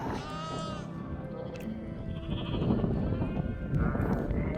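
Sheep bleating with wavering, nasal calls over a busy outdoor background, a few bleats standing out near the start and toward the end.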